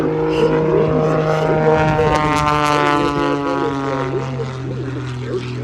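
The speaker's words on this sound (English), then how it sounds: "This Super Chipmunk has been highly modified into the Airshow airplane you see today." A highly modified Super Chipmunk aerobatic plane with a custom-built 350 horsepower engine and a composite propeller flies at the Gatineau-Ottawa airshow, a loud droning engine with a shifting pitch under a spoken announcement.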